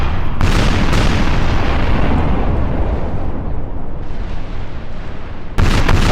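Naval cannon fire in Napoleon Total War, a loud continuous rumbling barrage of booms with sharp new blasts breaking in at the start and near the end.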